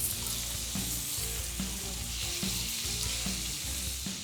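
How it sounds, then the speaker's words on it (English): Bacon strips sizzle in a pan, a dense, steady crackle heard up close with a faint regular ticking underneath and no voices. "Once the bacon is crisp and brown on one side, turn it over, and brown the other side."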